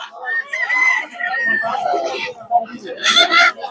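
A large desi rooster of about four kilograms crows loudly at a busy village poultry market, its strained calls rising twice amid clucking fowl and people talking nearby.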